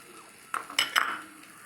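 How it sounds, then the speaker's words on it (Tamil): A few quick clinks and scrapes of a spoon against a bowl while stirring a potato bonda mixture, close and fairly soft, over a quiet background. "இதே நல்லா மிக்ஸ் பண்ணிக்கலாம்."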